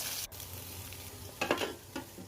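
Faint, steady sizzling of aubergine slices deep frying in oil, with a few soft clinks and stirring scrapes breaking through near the middle.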